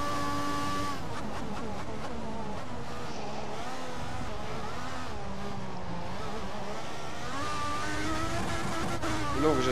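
A Marussia Formula 1 car racing at Spa in F1 2014 holds a loud, steady engine whine that climbs through the gears, with pitch sweeping up and dropping at each shift; a voice talks over it throughout.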